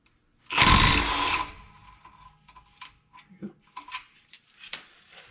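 A power tool loosens the bottom shock bolt on a fifth-generation Toyota 4Runner during a leveling kit install: a loud, close whirring burst of about one second, then a string of quieter metallic clicks and rattles.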